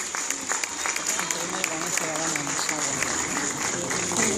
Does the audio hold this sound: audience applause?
yes